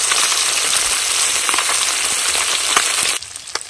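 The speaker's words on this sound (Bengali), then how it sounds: "বাটা মাছ একটু মিষ্টি মাছ, হালকা করে ভাজতে হয়।" Bata fish frying lightly in hot oil, a dense steady sizzle heard close up that cuts off abruptly near the end, leaving quieter background.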